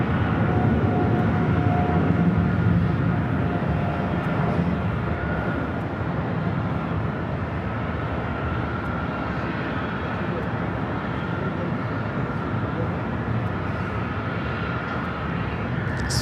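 A Swiss Boeing 777-300ER takes off from runway 25 right at Los Angeles airport, a steady broadband jet roar that holds loud and constant throughout, with a slight swell at the start.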